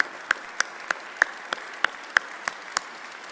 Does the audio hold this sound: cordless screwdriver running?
no